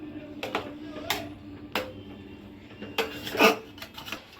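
Ingredients are stirred and mixed in a pan on a stove, with scattered scraping and clinking strokes of a utensil against the pan set apart by short quiet gaps.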